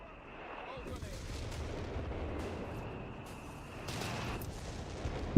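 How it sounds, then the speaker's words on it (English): Artillery barrages in the real-time strategy game Company of Heroes 3 during a 2v2 tournament match, heard as a steady rolling rumble of blasts that swells again near the end. "More artillery coming in."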